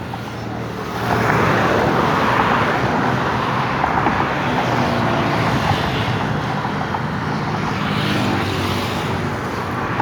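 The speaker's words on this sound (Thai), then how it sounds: "รถดีเซลรางนะคันนำหมายเลข 1260 นะครับผม" Diesel railcar number 1260 passing Talat Phlu station, a broad steady engine and rumbling roar rising after the first second and holding loud throughout, heard from a high vantage point.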